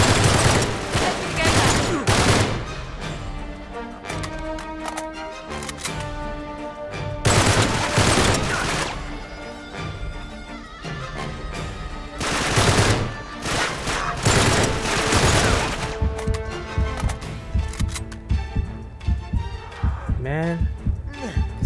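Gunfire rings out in the video game Uncharted 3, with loud bursts and rapid volleys of shots repeating in clusters, mixed with game music and effects and overlapping with a player talking.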